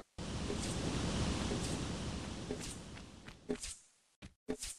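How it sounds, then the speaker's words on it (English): Water surges back up after a lever is pulled in the Tomb Raider video game's Tomb of Tihocan: a loud, steady rush rings out for about three seconds, then thins into a few soft thuds and steps before fading. "Oh, that just raised the water back up."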